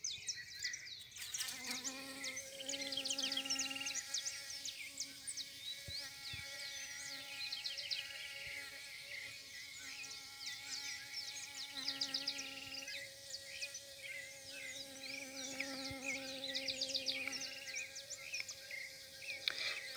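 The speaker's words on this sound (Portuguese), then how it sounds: "coisa linda, as abelhas, as flores de abóbora." Bees buzz steadily around pumpkin flowers, a close, sustained drone with overlapping buzzing that rises and falls for the whole stretch, with no talk and a faint outdoor background.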